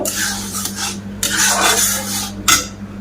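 Green mango pulp cooking down in a pan for amsotto while a spatula scrapes and stirs it, giving rough rasping strokes and clinks close up over a steady low hum.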